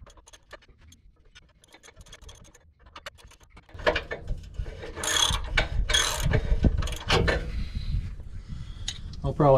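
A ratchet clicks while tightening spring bolts on a stainless steel exhaust flange under a Subaru, quiet ticking at first, then louder ratcheting bursts with metallic handling up close.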